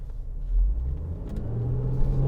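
A 2014 Range Rover Sport HSE with about 90,000 miles accelerates, its low engine rumble rising steadily from inside the cabin with no one speaking.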